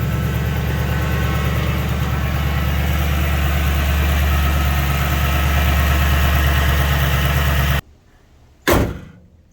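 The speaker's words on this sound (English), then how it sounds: "Let it idle for about 3 to 5 minutes, whatever you choose." A Ford Crown Victoria engine idles after an oil change, a steady, loud low rumble for about eight seconds, then cuts to near silence broken by a single short thump.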